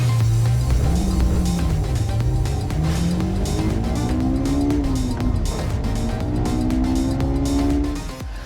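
A 2024 Alfa Romeo Giulia Quadrifoglio with its Ferrari-derived engine accelerates hard, its loud exhaust note climbing through several gear changes, with tire noise underneath before easing off at the end.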